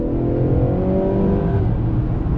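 A 2019 Honda Accord Sport with the 2.0-litre turbo engine accelerating, heard from inside as a loud, rising engine drone that climbs in pitch over a couple of seconds, with no talking.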